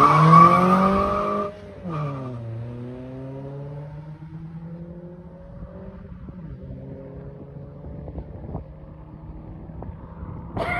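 Street race between a Toyota Corolla and a Civic: a loud engine revs up, drops with a gear change, then climbs again into a steady rising drone as the cars pull away.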